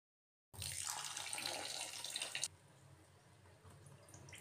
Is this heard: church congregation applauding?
no